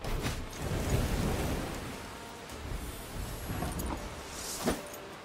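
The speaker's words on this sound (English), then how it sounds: "The storm is coming. Let's enjoy the weather while we still can." Thunderstorm ambience in the card game Thronebreaker: The Witcher Tales, with continuous rain hiss and low rumbling thunder swelling and receding, plus a brief sharp crack near the end, at a moderate, fairly quiet level without talking.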